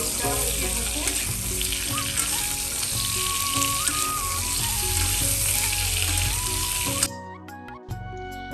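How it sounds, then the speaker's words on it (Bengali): Papaya and potato pieces fry in a pan with a constant, hissing sizzle beneath steady background music, lasting about seven seconds before the sizzle cuts off abruptly and only the music remains. "পেঁপে আলু ভালো মতো লাল লাল করে ভাজা হবে"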